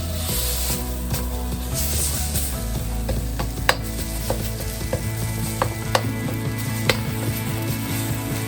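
Spices fry in a pan with a steady close sizzle while they are stirred, broken by occasional sharp clicks and taps of a utensil against the metal.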